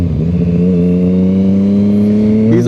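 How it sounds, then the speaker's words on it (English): A car revving loudly nearby as it drives past a house, a sustained, steady engine drone that rises slightly in pitch near the end, with no talking. "this car right here is always flying around"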